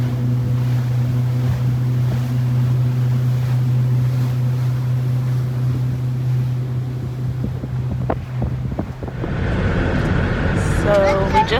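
A motorboat runs fast over water with a steady loud engine drone, wind and splashing, then the engine drops away near the end and voices start talking.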